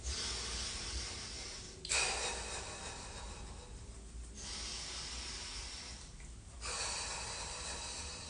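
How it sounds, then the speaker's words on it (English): Loud, steady breathing with eyes closed during a guided breathwork and body-shaking exercise, rushing in long continuous phases broken by brief pauses, close and without talk. "Close your eyes and breathe."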